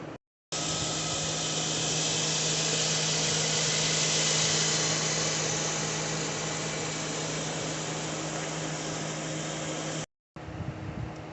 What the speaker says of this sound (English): Now let me show you the engine.